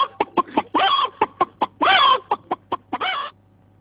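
A man on a comedy radio broadcast imitates a hen with his voice, a run of sharp clucks broken by two longer drawn-out squawks, loud and close, with no other talking.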